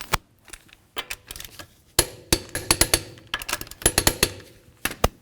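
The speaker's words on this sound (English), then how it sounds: "we'll continue on to torquing the lug nuts in a crisscross manner" Sharp metallic clicks and ratchet ticks from torquing the lug nuts of a Jeep Compass wheel with a torque wrench, arriving in close, irregular clusters with brief pauses between them.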